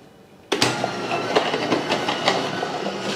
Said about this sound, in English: This juicer is not that loud.